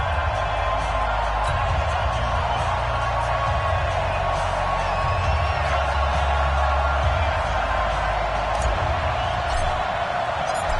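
A stadium crowd roars steadily at an NFL game between the New York Giants and Baltimore Ravens in an EA Sports football video game, a dense continuous wash of cheering throughout.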